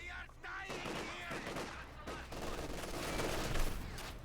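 MG42 machine gun fire in the video game Company of Heroes 2, dense rattling bursts mixed with other battle gunfire and a busy game soundscape, with speech mixed in.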